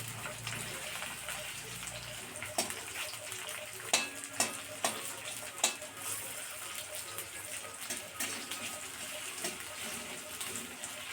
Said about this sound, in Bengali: এদিকে আমি পেঁয়াজ কুচি, লঙ্কা কুচি এসব দিয়ে দিচ্ছি। খুব ভালো করে এটাকে ভেজে নেব।